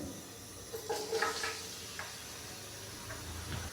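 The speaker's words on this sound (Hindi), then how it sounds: "अभी मैं इसके अंदर 2 अदद बारीक कट किए हुए प्याज डालूँगा।" Finely chopped onions hit lightly warmed oil for an aloo wadiyan salan, giving a soft, steady sizzle and hiss with a few brief stirring bursts, fairly quiet and close, no talking.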